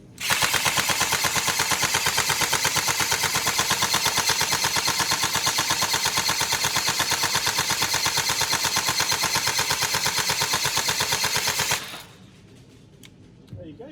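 Tokyo Marui MK46 NGRS airsoft electric gun firing one long, rapid, continuous burst of mechanical clatter for about twelve seconds, loud and close, then cutting off abruptly into near silence.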